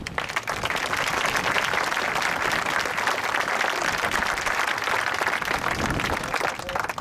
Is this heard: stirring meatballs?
no